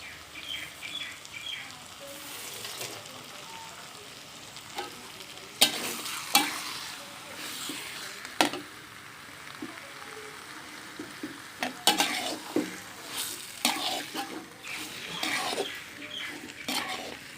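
Country chicken curry sizzling and frying in a pan while being stirred, with a steady low sizzle broken by repeated sharp scraping strokes of a spoon, louder and busier in the second half, with faint birdsong in the background.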